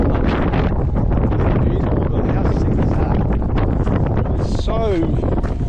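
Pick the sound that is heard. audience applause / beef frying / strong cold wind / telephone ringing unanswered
strong cold wind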